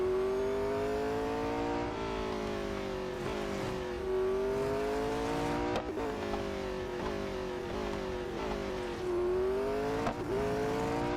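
A supercar's racing engine in Real Racing 3 drones loudly and continuously, its pitch rising and falling through gear changes as it accelerates and eases off, with no talking.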